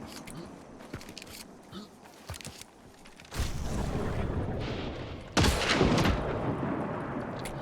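Gunfire in Hunt: Showdown, shooting the ammo on a downed enemy, with sharp shots in the first half, then a dense crackling burst of rounds cooking off loudly, and a second louder burst near the end, with some talk underneath.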